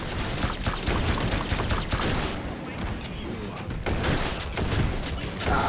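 Dense, continuous gunfire and explosive bursts fill a VR shooter match in Hot Dogs, Horseshoes & Hand Grenades, loud and overlapping throughout with little pause.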